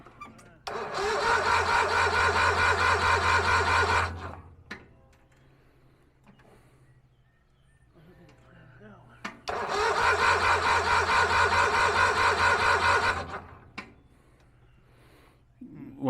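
A cheap Hustler riding lawn mower with a rough-running engine roars loudly for several seconds, cuts out, then fires again for another loud burst. Quieter gaps fall between the runs, and people talk nearby.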